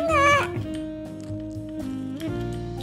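A cat in the Wobbly Life video game gives a loud, clear meow at the start, followed by softer game sounds and faint background tones.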